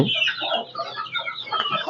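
Free-range country chickens at a small-scale poultry farm cluck close by, a busy run of short overlapping clucks and murmurs lasting about two seconds with no talk.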